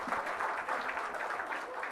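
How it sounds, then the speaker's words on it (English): An audience at a Women's History Month achievement event claps for the panelists and moderator, a soft, steady patter of many hands that sounds fairly distant and goes on without a break. "Can we give a round of applause to our panelists and our moderator?"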